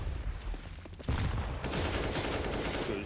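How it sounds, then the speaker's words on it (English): Pistol gunfire in a Counter-Strike match on the Inferno map, heard as a quieter scatter of shots that turns into a loud, dense burst of rapid firing midway and keeps going to the end. "Good headshot from Jo."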